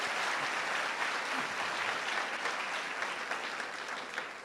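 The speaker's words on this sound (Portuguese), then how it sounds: "Uma salva de palmas para o Misael e para o Carlos." Church congregation giving a round of applause after a Portuguese sermon, dense continuous clapping from many hands, moderately loud and fading slightly toward the end.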